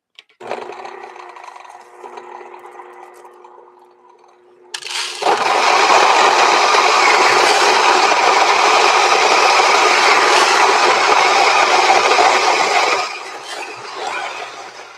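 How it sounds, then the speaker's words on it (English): An electric coffee grinder grinds a batch of beans for cold brew. After a quieter mechanical whir it roars loud and steady for about eight seconds, then drops back to a lower hum. "let's grind some more. We still got another 175 grams to grind"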